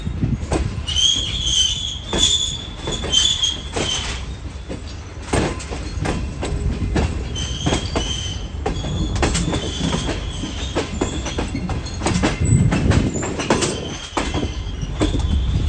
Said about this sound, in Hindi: ये ट्रेन हमारी ट्रैक से मेन लाइन पर चढ़ रही है